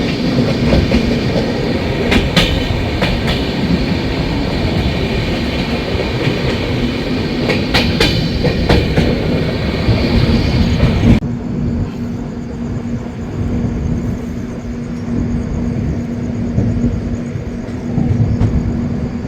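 Sealdah–New Delhi Rajdhani Express rolling on rails, a steady loud rumble with rhythmic clickety-clack wheel beats and a constant hum, heard from inside the moving train with no talk.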